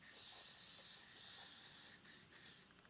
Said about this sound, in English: I'm gonna spray my edges